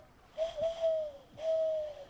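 A person imitates a pigeon with their voice, making two soft, hollow cooing calls separated by a short pause, fairly quiet and heard alone.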